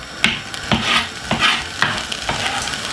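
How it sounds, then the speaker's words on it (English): Carrot, mixed peppers, tomato, garlic and seasoning frying in a little oil, with a steady close sizzle broken by about five rhythmic scrapes of a spoon stirring through the pan. "So basically we're just gonna fry up this about 3 to 4 minutes"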